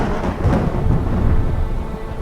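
Thunderstorm sound effect in a French-language audio story for children, with steady rumbling thunder and rain-like noise, loud and continuous, with no talk.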